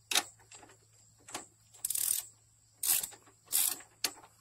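Ratcheting clicks from a torque wrench tightening a rear sway bar link to 30 foot-pounds on a 2010 GMC Acadia, in several short, sharp bursts with pauses between them, close and fairly quiet.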